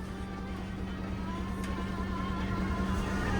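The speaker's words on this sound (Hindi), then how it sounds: "इसके बाद फिर हमारी बस भी यहाँ से आगे चलने लगी है।" A passenger bus pulls away on a mountain road in Uttarakhand above the Tons river valley, its engine a low, steady hum that grows gradually louder as it gets moving.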